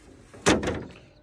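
A 2017 Jeep Rubicon car door swings and shuts with one solid, close thud, followed by a short rattling decay.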